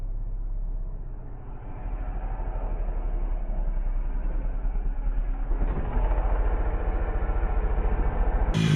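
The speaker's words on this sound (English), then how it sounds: "We have a truck coming" A truck approaches along a dirt track, its engine a steady low rumble that grows gradually louder and fuller as it draws nearer, with no one talking.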